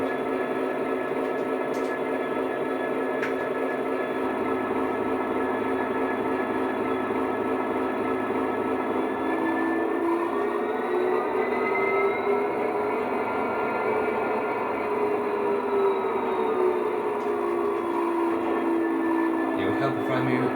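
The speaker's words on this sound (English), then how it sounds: "it's function 14 and it's called automatic radar hiss" Hattons Class 66 model locomotive with DCC sound, its automatic radar hiss playing over a steady diesel engine hum and tones, continuous and fairly loud at close range.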